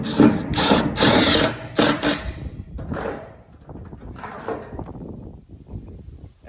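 A power drill whirs in several short, loud bursts while drilling into a roof for roof screws, followed by quieter clattering and handling noises.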